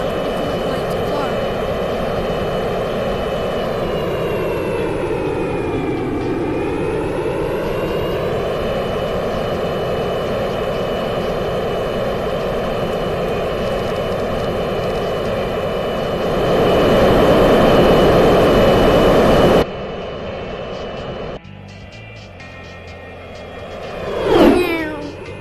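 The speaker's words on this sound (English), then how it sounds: "737 is like a pretty cool plane to fly." Boeing 737 jet engines in a VR flight video game, a steady loud whining drone with layered tones that dip and rise in pitch, then cut abruptly to quieter game sounds with a brief swelling whoosh.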